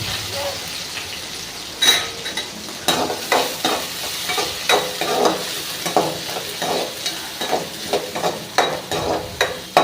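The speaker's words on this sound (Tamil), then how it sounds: "கருவேப்பிலை, பச்சை மிளகா, தக்காளி, வெங்காயம் எல்லாத்தையும் சேர்த்துக்கிட்டு நம்ம நல்லா அதை ஃப்ரை பண்ணிக்கணும்." Onions, tomatoes, green chillies and curry leaves frying in a pan for fish curry, a steady sizzle broken by a regular series of scraping, clinking stirs from a ladle against the metal.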